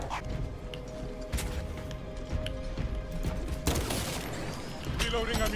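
Sniper rifle fire in a video game, a few sharp cracks spaced apart over a busy backdrop of game noise, with a voice talking at times.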